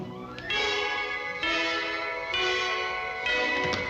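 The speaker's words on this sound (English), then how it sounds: "The wedding chimes ring out for Mandy." Church bells ring as wedding chimes in a 1943 Army musical, four loud, sustained peals struck roughly once a second, each blooming into a long, rich overtone wash.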